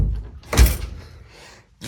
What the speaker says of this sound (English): So this is the door where you come in from the outside.